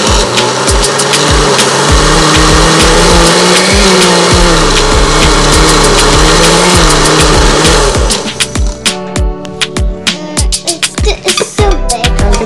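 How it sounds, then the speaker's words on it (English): A blender purees partly frozen mango for sorbet with a loud, steady grinding whir. Near the end it breaks into choppy, stuttering bursts as the fruit catches and releases. "So I'm going to add them to the blender. And we're going to puree it because we want it smooth as possible."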